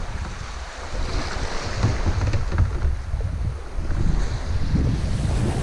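Wind and breaking waves at sea off the North Ayrshire coast during sea kayaking in a moderate southeasterly, a continuous close rush of surf and buffeting wind noise on the microphone, with no talk.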